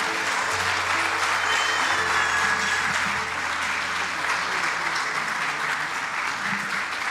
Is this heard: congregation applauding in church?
yes